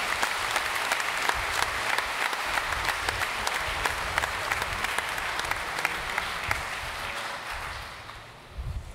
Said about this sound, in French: Je vous demande de les applaudir pour les encourager.